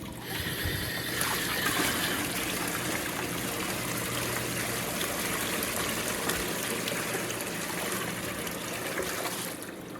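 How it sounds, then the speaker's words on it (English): Steady splashing and trickling of water pouring into buckets at a gold mine, continuous and fairly close, with no voices. "what we're doing is pouring water in the buckets."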